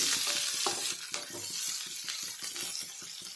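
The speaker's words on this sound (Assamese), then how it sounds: "এতিয়া এইখিনি ধুনীয়াকৈ এবাৰ লৰাই ল'ব, অকণমান ফ্ৰাই হ'ব দিব এইখিনি" Finely chopped onions sizzle in a hot pan while a spatula stirs them in quick, regular strokes, giving a steady rhythmic scraping over the frying hiss, close and alone.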